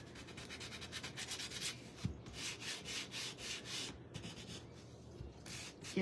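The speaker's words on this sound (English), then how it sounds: "I want to be careful when I sand this" Hand sanding on a painted wooden shim makes soft, rhythmic back-and-forth rubbing strokes, fairly quiet and close, with a few small knocks and no speech.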